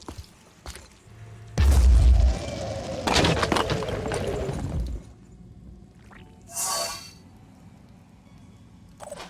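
A grenade blast in the tactical game Phoenix Point: a heavy low boom that rumbles for a few seconds, followed by a fainter later burst, set against quiet game ambience.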